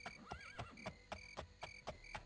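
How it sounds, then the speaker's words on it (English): A horse in the retro fantasy game Daggerfall gives a whinnying neigh early on, accompanied by regular clip-clop hoofbeats that repeat steadily throughout, close and fairly quiet. "my horse is making noises"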